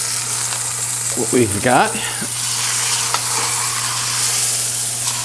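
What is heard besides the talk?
pork roast sizzling in pan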